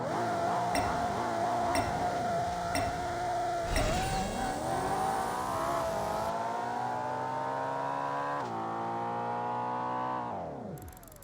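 An electric car launching from a standstill in the racing game Asphalt in third gear, a loud whining motor sweep climbing through rising tones with repeated gear-shift dips and a sharp cut at the end.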